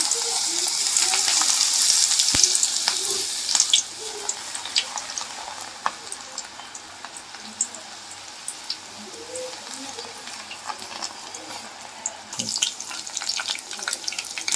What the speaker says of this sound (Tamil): இப்போ வந்து எண்ணெயில் போட்டு பொறிச்சு எடுக்கலாம்